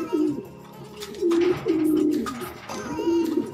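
A blue bar pigeon coos in a loft, three or four throaty rolling coos in a slow rhythm, close and fairly loud, with no one talking.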